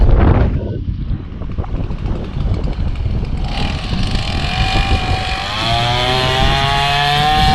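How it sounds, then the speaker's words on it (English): Strong wind sweeps across an open cattle pasture, roaring steadily and buffeting the microphone, with a rising engine-like drone joining in the second half. "It's very windy today."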